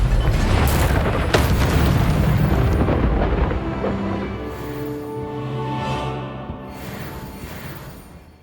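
A heavy booming blast from the Confringo explosive spell in Hogwarts Legacy, a loud deep impact near the start that rumbles and fades slowly over several seconds, alone without talk.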